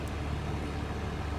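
A bus engine in the Car Parking Multiplayer video game gives a quiet, continuous low rumble, steady throughout with no voices.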